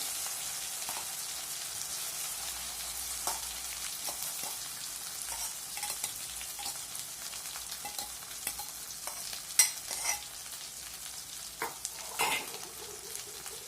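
Andhra-style puli keerai (gongura) thokku sizzles steadily in a pan while it is stirred, with scattered scraping clicks from the spoon; there is no talking.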